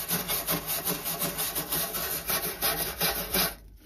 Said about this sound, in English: Heat exchanger, I'm gonna give it a little scrub.